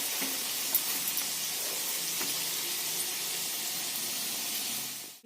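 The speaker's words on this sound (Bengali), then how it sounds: "দেখুন পায়েসটা ফুটছে।" Payesh, a rice pudding sweetened with patali jaggery, bubbles in a pot, giving a soft, continuous hiss and sizzle with faint popping bursts that trail off at the end.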